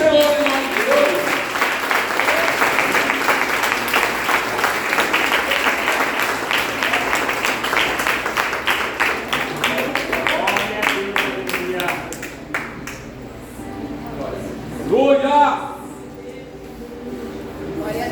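Church congregation claps loudly during a worship service, a dense sustained applause that thins into scattered individual claps toward the end, with a voice speaking briefly over the fading hands.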